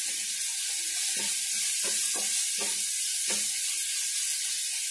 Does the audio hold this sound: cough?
no